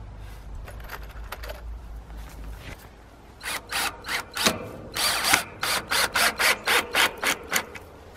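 A power driver runs wood screws into the wooden uprights of a chicken tractor during building work, heard as a quick series of short bursts that quickens into a steady, even rhythm, close up and loud.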